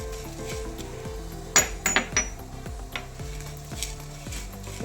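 Chana dal and toor dal roast in a pan, with a spoon clinking and scraping against the metal in short, irregular strokes; no talking.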